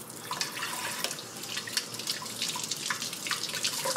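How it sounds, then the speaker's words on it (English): Peaches rinsed under a running kitchen tap, a steady close splash of water with uneven dripping and spattering as the fruit is turned in the stream, no talking. "give these peaches a little rinse."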